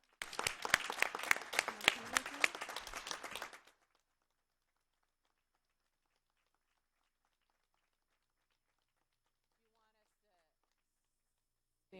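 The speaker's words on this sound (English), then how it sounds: "Can we please give them a round of applause for their excellent work?" Warm burst of applause for students at a Poway school board meeting, with crisp clapping for roughly three and a half seconds before the room falls almost silent.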